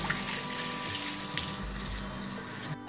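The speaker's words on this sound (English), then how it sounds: "I'm just going to add a little bit more water." Steady running water from a tap wetting hair during a curly hair cleansing routine, a continuous close wash of flow and splashing with no talk.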